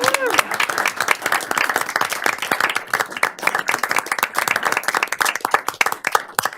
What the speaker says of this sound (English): we owe you a congratulatory round of applause